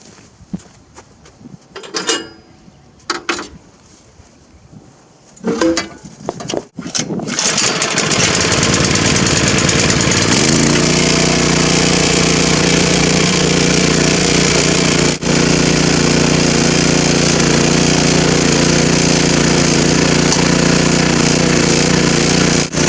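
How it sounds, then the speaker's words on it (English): A garden tiller's small engine starts after a few knocks and clatters, then settles into a loud, steady running drone as the tines dig into dirt, continuing close and unbroken to the end. "think what I'll do is fire it up, do a little tilling, get the tines down in the dirt"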